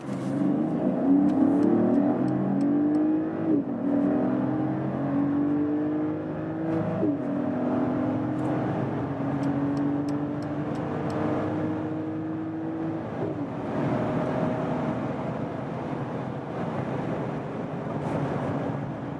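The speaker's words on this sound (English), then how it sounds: "Let's see about the acceleration of this engine and also then about high-speed noise insulation." A Mercedes all-wheel-drive SUV accelerates hard in Sports Plus mode from about 30 to 200 km/h, engine note climbing repeatedly and dropping at each gear shift under steady road and wind roar, heard from inside the cabin without talk.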